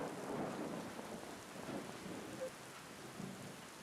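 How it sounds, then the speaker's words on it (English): Rain patters steadily with low rumbles of thunder rolling underneath, quiet and continuous, as weather ambience in the farming video game Friends of Mineral Town on Switch. "It's raining for the second day in a row"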